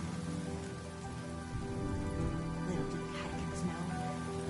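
Steady rain in the video game Honkai Star Rail, a dense, even hiss of falling rain that holds constant throughout, with faint voices under it.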